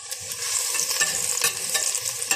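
Meat for an Arabic-style salona fries in a hot pan with steady crackling sizzle, broken by repeated scraping stirs of a utensil, close and continuous with no voices.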